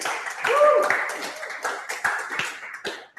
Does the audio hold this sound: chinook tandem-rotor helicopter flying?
no